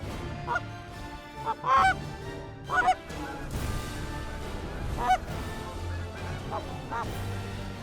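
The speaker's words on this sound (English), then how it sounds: "And the first group of geese come out and they land right over the hill." Geese honk repeatedly in scattered loud calls over a field during fall waterfowl hunting, some close and some farther off, over steady outdoor background noise.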